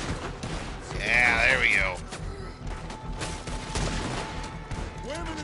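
Rifle gunfire in Red Dead Redemption 2 cracks out in a burst of sharp, loud shots amid battle noise, with someone talking over it.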